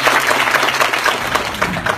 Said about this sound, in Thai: ขอเสียงปรบมือต้อนรับคุณชัดชัยคุณปิติลักษณ์ให้เกียรติบนเวทีค่ะ